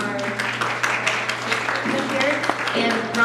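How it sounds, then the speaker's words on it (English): A small church group gathering breaks into applause, a steady patter of clapping from a modest crowd with voices mixed in underneath. "can we give a round of applause for our"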